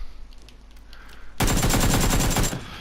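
Automatic gunfire in the video game PUBG, a loud rapid burst of shots lasting about a second after quiet ambient background, then cutting off.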